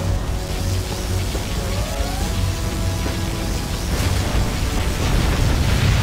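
A particle cannon blast in the real-time strategy game Command & Conquer Generals Zero Hour, a heavy rumbling boom with sustained roaring energy and crackling bursts layered over game ambience, loud and continuous.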